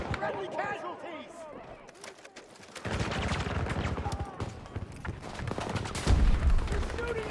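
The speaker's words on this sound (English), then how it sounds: "They're shooting at me!" Battlefield 2042 gunfire erupts in dense, loud bursts of rapid shots after a quieter opening, with chaotic battle noise and voices shouting over the shooting.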